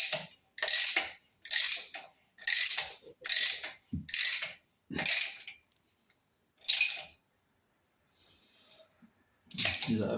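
A new oil filter cap on a Triumph Trident T160 motorcycle is tightened by hand with a ratchet, producing a run of loud, close, rhythmic clicking bursts followed by a pause and one more burst.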